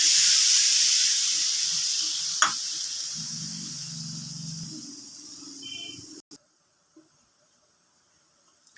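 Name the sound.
fish curry gravy boiling in pan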